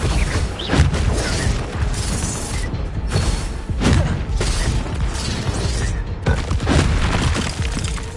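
Explosive Confringo spell blasts in the Hogwarts Legacy video game: dense, loud bursts of booming, crashing and shattering debris that pile up continuously, with clusters of heavier impacts near the start and around the middle.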